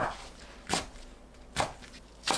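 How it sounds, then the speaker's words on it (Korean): A knife chops napa cabbage into bite-sized pieces on a board, giving three separate, fairly soft chops spaced under a second apart against a quiet kitchen background. "배추는 한입 크기로 썰어줍니다."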